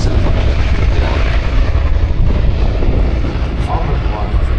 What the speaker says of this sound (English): one of the world's only centre steer jet funny cars